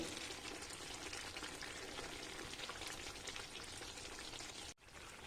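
Milk cream simmering into ghee in a pan while being stirred, a faint continuous bubbling crackle with soft scraping, cut briefly near the end.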